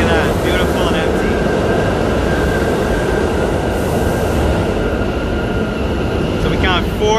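An NYC subway A train on the IND 8th Avenue Line roars steadily from inside the car, a loud continuous rumble of wheels and motors with faint squealing and tonal whines throughout.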